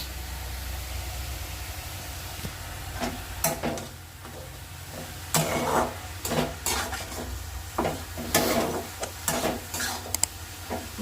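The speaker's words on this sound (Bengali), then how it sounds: "শাক ভাজা এখানে বসিয়ে দিয়েছি, শাক ভাজা হচ্ছে।" Red amaranth greens sizzle softly in a pan on the stove, with repeated clanks and scrapes from a spatula stirring the leaves.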